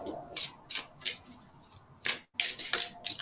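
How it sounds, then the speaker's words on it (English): Cards of the Ask Angels Oracle deck by Melanie Beckler being shuffled by hand, a series of soft, crisp riffling and sliding bursts close by, repeating in quick irregular rhythm with no talk. "I'm shuffling the Ask Angels Oracle by Melanie Beckler."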